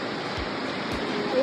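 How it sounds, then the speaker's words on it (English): An indoor waterfall inside a Bass Pro Shops store gives a steady, even rush of falling water, moderately loud with no breaks. "a waterfall."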